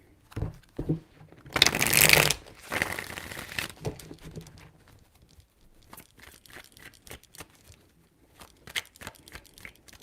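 Tarot cards shuffled in a loud, crisp burst, then quieter riffling and scattered taps and card handling that trail off into near silence.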